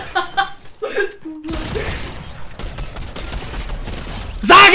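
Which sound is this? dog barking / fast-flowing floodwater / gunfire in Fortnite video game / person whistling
gunfire in Fortnite video game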